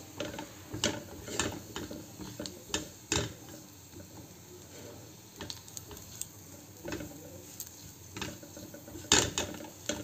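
Mushrooms fry briefly in a pan of spiced masala, giving a low, steady sizzle with scattered clicks and scraping taps from stirring, close and quiet, with no voices.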